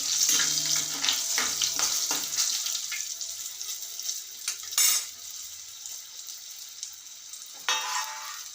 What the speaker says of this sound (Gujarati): પછી સૂકા લાલ મરચાં એડ કરીશું લીલા મરચાં એડ કરીશું અને એક દાલચીનીનો ટુકડો અને લીમડાના પાન એડ કરીશું